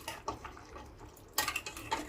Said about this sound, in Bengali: 5 মিনিট লো ফ্লেমে ঢাকা দিয়ে রান্না করবার পর আমি ঢাকাটা খুলে দিচ্ছি।